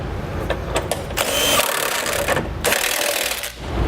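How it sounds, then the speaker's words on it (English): A 19mm socket tightens the bolts of an etrailer hitch receiver on a 2015 Honda Odyssey, giving steady close-up grinding and rubbing metal noise with short pauses, no talking. "we'll take a 19mm socket and tighten everything up"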